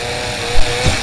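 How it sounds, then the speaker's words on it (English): A loud, close chainsaw from the horror video game Chainsaw Janitor buzzes without a break, with a couple of brief surges in its roar. "Don't get hit by the chainsaw again."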